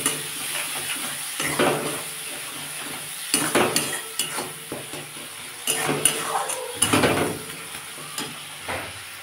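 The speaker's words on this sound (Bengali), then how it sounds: "অল্প চিনি আর নুন 1 চামচ দিয়ে এটাকে ভালো করে এখন কষাবো।" Spice paste with a little sugar and salt is stir-fried in a pan for Bengali gourd and prawn curry, giving sizzling bursts and repeated scraping, clanking stirs of a utensil against the pan at an irregular rhythm.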